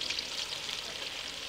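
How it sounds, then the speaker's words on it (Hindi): Chopped onion frying in hot ghee for a bhindi salan, a steady bright sizzle with no breaks, close and moderately loud, no voices. "इसमें हम प्याज डाल देंगे"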